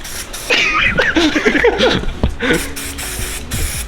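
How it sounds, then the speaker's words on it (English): Short hissing bursts from a spray can applying primer in an engine bay, several quick sprays in a row, with a voice talking over the first part. "You can tell Spoon spray painted a lot of engine bays before."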